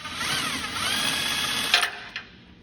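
A power tool, likely an impact driver or drill, spins a nut off a bumper bolt on a 4th-gen Toyota 4Runner during a front bumper installation. It runs steadily for nearly two seconds, then stops with a couple of sharp clicks.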